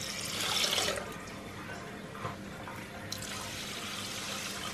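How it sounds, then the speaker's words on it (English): Water is poured into a pot of dry rice for steaming, a loud gushing splash in the first second that settles into a softer running, trickling wash of liquid for the rest. "I'm going to add the water."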